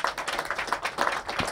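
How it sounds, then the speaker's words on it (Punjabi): An audience claps steadily at the opening of a new funeral directors' branch in Leicester, a brief burst of many hands close by. "ਇਹਨਾਂ ਨੇ ਤਾੜੀਆਂ ਮਾਰ"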